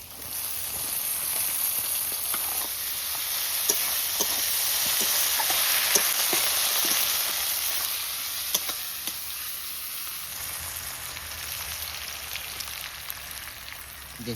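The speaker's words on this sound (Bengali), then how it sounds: "এবার থেতো করা রসুন এগুলো দিয়ে দিই সব" Crushed garlic and onions fry together in oil, giving a continuous close hiss that swells and eases, broken by a few light spatula taps and stirs.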